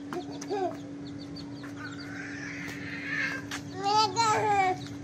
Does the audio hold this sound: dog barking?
no